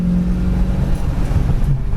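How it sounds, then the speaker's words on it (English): A 1967 Mustang on oversized tires accelerates as its transmission kicks down, giving a loud, close, steady low engine drone that rises slightly in pitch over two seconds. "Transmission kicks down."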